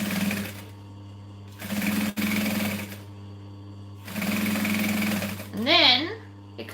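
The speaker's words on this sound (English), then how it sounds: "And I'm going to backstitch because I always backstitch." A sewing machine stitches a seam on a business bag, running in three loud, steady bursts with short pauses as it backstitches, and a brief voice-like rising tone near the end.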